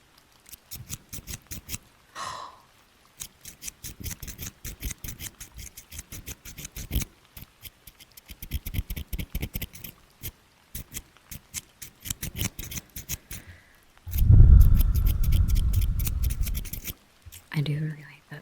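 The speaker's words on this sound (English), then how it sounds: "I also have other scissors" Sharp scissors snip repeatedly close to the mic in quick irregular bursts, followed by a louder rustling scrape near the end.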